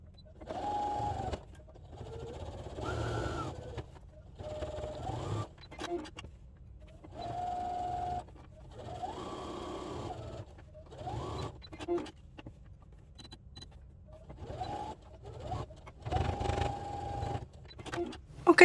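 A sewing machine runs a top stitch along the seam of a cargo pocket for pants in short, whirring bursts of a couple of seconds each, broken by quiet handling pauses and close and fairly soft.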